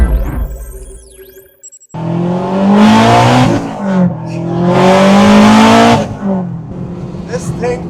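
Turbocharged K24-powered all-wheel-drive Honda Civic sleeper accelerating hard, a loud engine roar surging in two strong pulls with gear changes between, after a brief quieter idle, close and aggressive.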